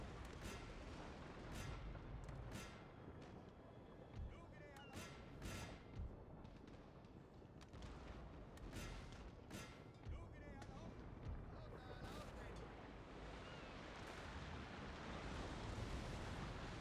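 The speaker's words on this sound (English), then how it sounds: "So we're just bombarding the shit out of that guy." Cannon fire pounds a ship in a naval battle in Napoleon: Total War, with repeated heavy booms in irregular volleys over a constant roar of sea and wind.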